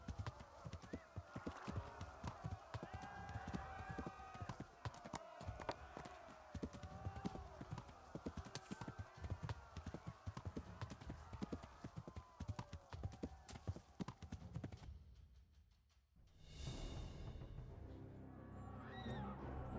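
Rapid clip-clop of horse hooves pounding continuously with some snorting in Kingdom Come: Deliverance, then a pause and a loud whoosh near the end, with game-like sound effects.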